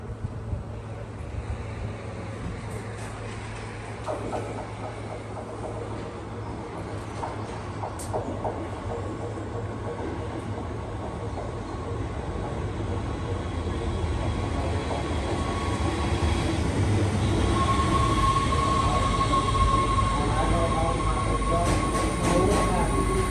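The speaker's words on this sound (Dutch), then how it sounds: "Ik zit in de trein naar Hoorn." Dutch passenger train heading to Hoorn, heard from inside the carriage as a continuous rumbling ride with rhythmic wheel and track noise, building louder toward the end, plus a faint steady tonal whine.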